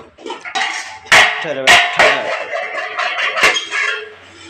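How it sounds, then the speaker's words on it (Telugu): Metal cooking pots clank and clatter as they are lifted and set down in a kitchen, several sharp knocks close by, with faint voices in the background. "అన్ని ఎత్తేస్తాను గిన్నెలు గిన్నెలు ఎత్తేస్తాను"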